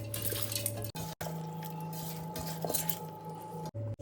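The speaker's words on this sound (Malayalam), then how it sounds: "ഇനി ഒന്ന് കൈ കൊണ്ട് മിക്സ് ചെയ്ത് കൊടുക്കുന്നുണ്ട്." A hand mixing spiced food with green chillies and water, giving close, continuous wet squishing and dripping with a couple of brief pauses over a faint steady hum, no talking.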